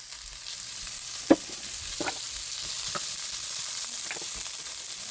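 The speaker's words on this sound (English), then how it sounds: "Let that start frying up a little bit." Steady sizzling of zucchini and onions frying in a pan, with a few soft clacks of a utensil stirring, close and continuous.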